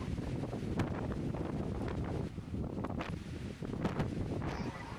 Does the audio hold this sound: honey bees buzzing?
no